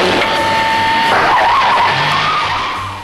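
A Batmobile roars off in a loud burst of engine and skidding tires, the whine rising and squealing before fading as it speeds away.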